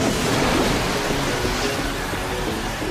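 Steady rain pours through an anime fight scene, a dense, even hiss with a low rumbling undertone. It is fairly loud and continuous, and no one speaks over it.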